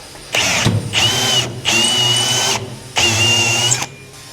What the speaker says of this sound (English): we're just gonna take the reamer here and ream this hole out just a little bit